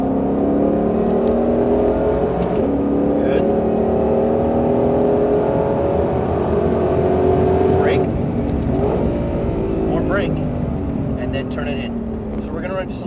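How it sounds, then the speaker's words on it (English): A Ford Mustang Shelby GT500 accelerates on a race track in Las Vegas, its engine note rising in a loud, steady pitch climb before easing off, heard from inside the car with an instructor talking over it. "Squeeze onto the throttle and unwind to the left-hand side."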